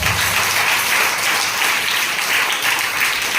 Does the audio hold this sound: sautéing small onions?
no